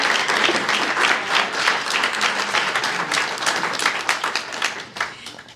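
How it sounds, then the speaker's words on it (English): A crowd at a poetry event applauds with dense, continuous clapping that stays loud and close for several seconds, then thins toward the end. "Another round of applause."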